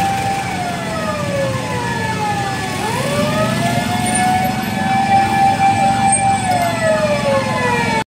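Fire truck siren wailing loud and close on a congested, traffic-choked road near a fire on Payatas Road, the rising and falling tone sweeping continuously with street noise underneath.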